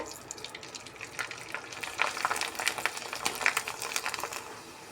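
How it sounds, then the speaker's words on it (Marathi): Kurdai, dried wheat crisps, puffing in hot oil for an Akshaya Tritiya meal, giving a light crackle and spitting sizzle that rises and falls close by, with no voices. "आता कुरड्या तळून घेते."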